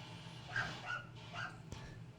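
Dogs bark and yip a few times in a busy house, faint and somewhat distant beneath a low background murmur, with a brief knock near the end.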